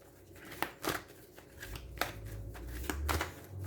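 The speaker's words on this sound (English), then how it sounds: "let's get some cards out here for this" Tarot cards being shuffled by hand, a few quick riffling bursts and soft slaps close by, with a low rumble underneath and no clear speech.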